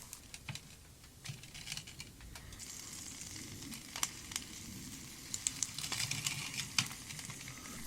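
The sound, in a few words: applewood smoked bacon frying over campfire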